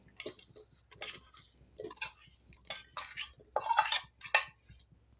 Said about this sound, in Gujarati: ગોળને આપણે હલાવતા જાવું અને સારી રીતે મેલ્ટ કરી લેશું